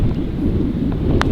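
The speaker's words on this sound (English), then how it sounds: "Got a huge old gust, didn't I?" A strong gust of wind buffets the microphone on a golf course, a low rumbling roar that swells and churns for over a second, with a faint brief click near the end.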